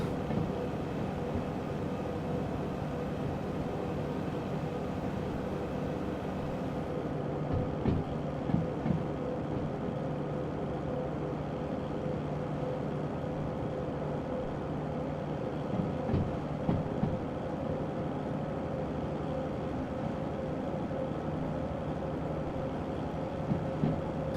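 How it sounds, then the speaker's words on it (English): A steady, droning train turbine engine hum in the video game Derail Valley, with a low mechanical rumble throughout and a few faint clanks and thumps along the way. "I think the turbine kicks in, it's a little loud."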